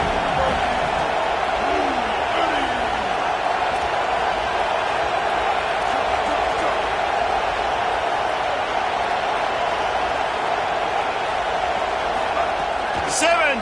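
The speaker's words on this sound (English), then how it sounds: "The roar of the crowd trying to fuel this defense to keep them pinned in their own end." Football stadium crowd at a Notre Dame game roaring steadily throughout as the home defense keeps the opponent pinned deep, a continuous dense wash of noise with no clear breaks and faint whoops rising near the end.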